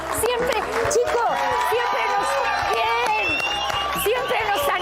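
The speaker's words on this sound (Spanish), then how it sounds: "Alberto Biondini, un aplauso" Studio audience at an Argentine TV program applauding a contest winner, a dense wash of clapping and crowd noise with cheers, loud and steady throughout, with voices talking over it.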